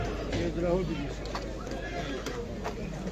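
Heavy draught horses whinny at a busy horse market in Pajęczno, Poland, with hoof clops and crowd chatter mixed in; people talk throughout under the steady din of the yard.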